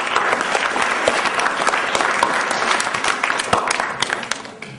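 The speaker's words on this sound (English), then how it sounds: "Give them a big round of applause, please." A quiz audience claps steadily throughout, a dense, even patter of applause with no talking.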